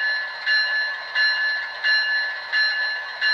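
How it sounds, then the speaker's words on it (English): A Loksound DCC sound decoder ringing the bell on a Kato P42 HO scale model locomotive, five evenly spaced metallic dings, each decaying before the next, clear and alone. "Here's the bell."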